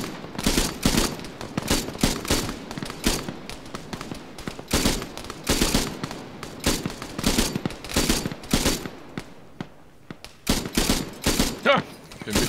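Gunfire in ArmA 3, rapid loud bursts of automatic shots fired in clusters with short gaps, repeating for about twelve seconds, one brief lull near the end.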